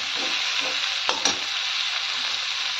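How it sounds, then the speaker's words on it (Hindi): Chili peppers frying over high flame in a salted pan, a steady loud sizzle with a couple of sharp stirring scrapes near the middle, no voices. "मिर्च फ्राई हो रहा है"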